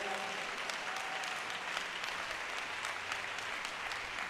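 Congregation applauding in a church, a dense continuous patter of clapping held at an even level for several seconds, slightly distant and moderately quiet.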